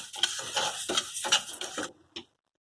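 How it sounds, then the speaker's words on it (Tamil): Raw rice dry-roasting to golden in a pan, heard as a quick series of scraping, rustling stirs with short pauses in between, fairly close, ending in one last brief scrape before silence. "பச்சரிசி போட்டு அதை நல்லா பொன்னிறமாக நம்ம நல்லா வறுக்கணும்"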